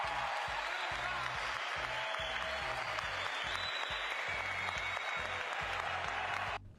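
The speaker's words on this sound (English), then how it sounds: "It gets even more awkward when the surrounding public begins to applaud." Sustained clapping from a sizable crowd of shoppers in a mall, dense and steady throughout, cutting off abruptly at the end.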